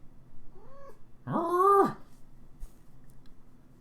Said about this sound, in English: Now she shall meow.